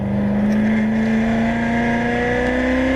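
Exotic race car on a racetrack under throttle, its engine holding a loud, steady high-revving drone that climbs slightly in pitch, close and continuous with no talk.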